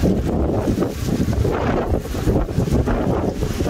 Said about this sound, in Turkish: rüzgarın hızı zaman zaman saatte 80 kilometreyi buldu.